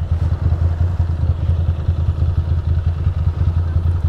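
A Ducati Monster 620 motorcycle engine idles as it warms up, a loud, steady, lumpy rumble with a regular pulsing beat and mechanical clatter, heard up close and alone.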